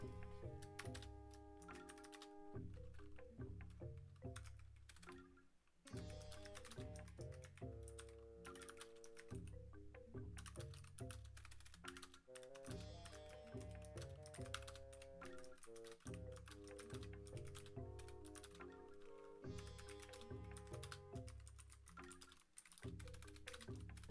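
Keys on a computer keyboard are typed in quick, uneven bursts. The tapping is faint and close, with tonal background music running underneath throughout.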